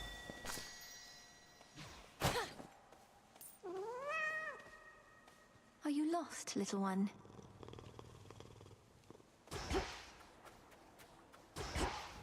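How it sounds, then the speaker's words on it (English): A cat purrs and meows close by, with a few rising, drawn-out meows between softer purring, while a person speaks quietly over part of it. "It's just the cat"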